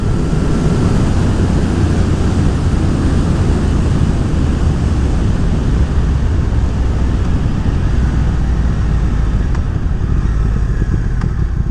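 A Triumph Speed Twin motorcycle fitted with a DNK Tuneworks TuneECU tune accelerates on the highway, its engine a continuous loud drone mixed with heavy wind rush, with no voices heard.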